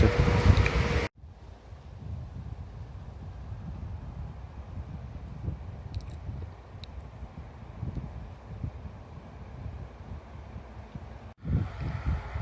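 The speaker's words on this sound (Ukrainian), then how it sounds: "Все час проти вітру треба їхати." Wind rushes and buffets against the microphone of a cyclist riding into a headwind, in a continuous low roar, with brief louder gusts at the start and end.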